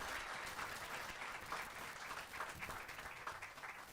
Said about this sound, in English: Let's all just round of applause really quickly.